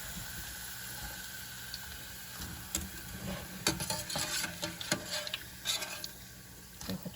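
Plantain slices with skin frying in hot oil, a soft steady sizzle under clinks and scrapes of a utensil stirring and lifting pieces from the pan, with no talking.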